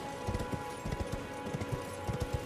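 Horse hooves clip-clopping in Elden Ring, a steady run of soft thuds under a droning game soundscape, moderately close and fairly quiet.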